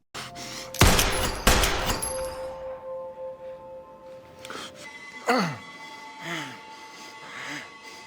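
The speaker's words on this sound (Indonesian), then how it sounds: "Han menembaknya, namun peluru mental Kyujin menegaskan orang biasa tak bisa membunuhnya." Gunfire in a film scene: two loud close blasts in quick succession with a ringing metallic tail, then whooshing effects and swelling score underneath.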